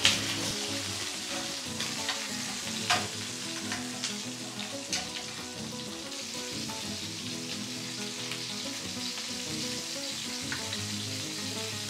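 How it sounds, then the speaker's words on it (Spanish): Seafood searing in a wide paella pan, a steady sizzling hiss with faint stirring and scraping, close and continuous throughout without any talk. "Entonces el primer paso Es darle, sellar el pescado"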